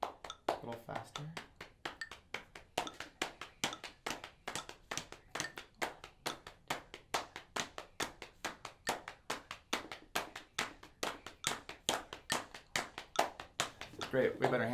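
Hand clapping along to a steady rhythm during a music lesson, a long even series of crisp claps close by, about three per second, with faint playing underneath.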